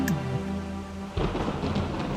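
Rain and thunder in a short-film scene: a soft musical passage gives way to a broad, rumbling wash of rain and thunder that fills the last second, with no voices.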